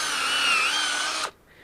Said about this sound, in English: when you tap, you want to have your drill bit at a slight upward angle into the tree